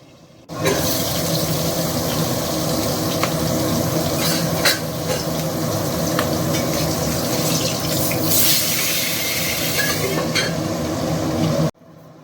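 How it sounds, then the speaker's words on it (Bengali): Boal fish frying in a little mustard oil in a kadai, a steady loud hiss and sizzle running continuously for most of the stretch before cutting off abruptly. "এবার মাছগুলো ভাজতে দিয়ে দিচ্ছি।"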